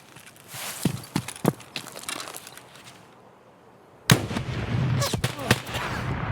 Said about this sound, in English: To hear the guy shooting down there now.